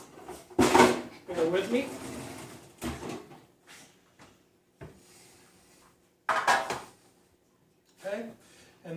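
A pan gets pulled out and handled in a kitchen while pork loin is being smoked, making a few sharp knocks and slides of metal and wood between bursts of someone talking.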